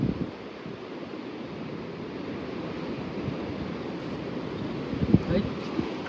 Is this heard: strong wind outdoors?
yes